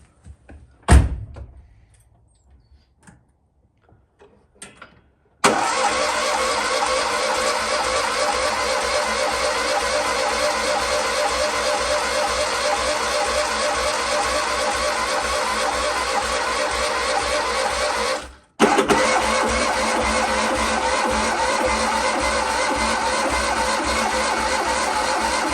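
An old car, off the road for ten years, cranks and fires after a door slam, then runs steadily and loudly at idle, with a brief cut-out before it catches again and keeps running.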